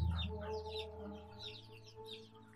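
Buff-colored Brahma chicken with a pea comb and feathery feet clucking softly nearby in a backyard farm, with a few bird calls repeating in a loose rhythm.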